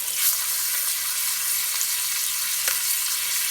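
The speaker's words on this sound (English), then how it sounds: "I just like to let some of the fat render off" Meat frying in a pot over a fairly high flame with its fat rendering for pea soup, a loud, dense, continuous sizzle close by with faint crackles and no voices.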